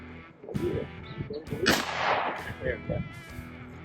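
Gunshots at an outdoor shooting range during a range-day shooting challenge: several sharp reports, one loud blast near the middle, with people talking in between.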